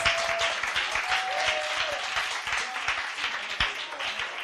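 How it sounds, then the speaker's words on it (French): A church congregation claps and cheers for the Lord in dense, continuous applause that goes on throughout. A brief voice rises out of the noise. "Acclamez, acclamez pour le Seigneur."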